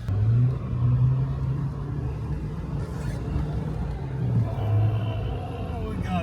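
A car drifting in a snowy parking lot, its engine droning and revving in long swells at moderate distance, with a wheel spinning on ice, while people talk excitedly nearby.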